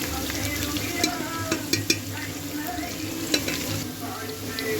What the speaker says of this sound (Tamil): இப்போ வெங்காயம் வதங்கிச்சான்னு பார்க்கலாம். பாருங்க, லைட்டாக கொஞ்சம் ப்ரௌனிஷ் ஆகுது. அதே மாதிரி நல்லா வதங்கட்டும்.